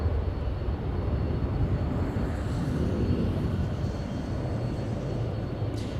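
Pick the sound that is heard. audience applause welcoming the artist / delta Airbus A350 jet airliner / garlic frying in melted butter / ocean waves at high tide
delta Airbus A350 jet airliner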